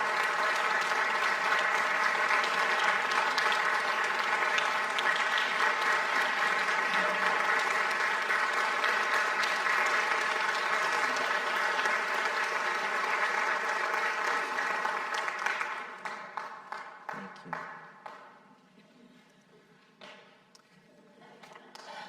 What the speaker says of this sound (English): give her a thanks and a round of applause for all that she's done for St. Paul